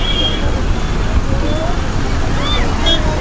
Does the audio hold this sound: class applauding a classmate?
no